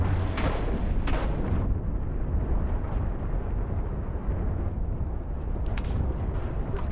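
Ammo storage blows up under fire aboard a ship in the space game Cosmoteer. A couple of sharp bursts open a loud, dense, rumbling explosion roar that holds steady throughout, with a few more crackles near the end.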